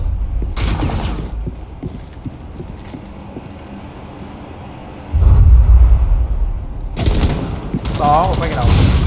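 Rapid gunfire in Rainbow Six Siege, bursts of automatic weapon fire crackling near and loud, with quieter shots between bursts and a heavy thump midway, while players talk over the action.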